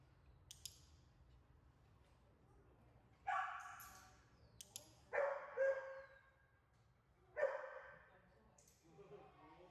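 A dog in a reactive dog training class gives a few short, fairly close barks spaced a second or two apart, with quiet stretches and faint room noise between them.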